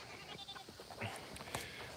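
Goats on a small farm bleat in a few short, wavering calls, fairly quiet and close, over faint background noise.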